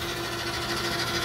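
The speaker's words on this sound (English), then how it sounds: "That's the oscillation of the cyclone you hear there on my wet stroke." A DEK Horizon 02i printer cleaner cyclone oscillates during its wet cleaning stroke, giving a close, steady mechanical whirring buzz like a sewing machine, continuous and brief with no talk.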